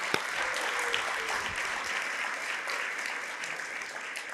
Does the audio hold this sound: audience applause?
yes